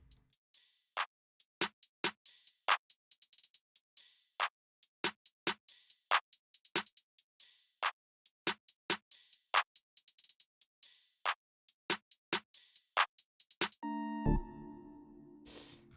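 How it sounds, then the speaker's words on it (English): Crisp electronic hi-hats programmed in FL Studio tick in a syncopated pattern with quick percussive hits and gaps, ending with a brief tonal synth burst, clean and close. "all the drums, and together they sound like this."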